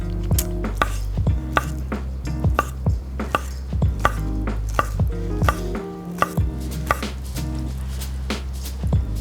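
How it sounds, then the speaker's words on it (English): A knife chops rapidly through a rolled thin omelet on a cutting board, slicing it into ribbons for japchae noodles; steady, close, crisp knocks repeat in a quick even rhythm with no talking. "And I'm going to roll it up to cut it really thin."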